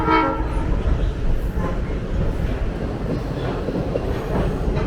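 The inaugural Phillipsburg to Riegelsville River Train excursion in New Jersey passes close by with a loud, continuous rail rumble, and a horn blast sounds at the start.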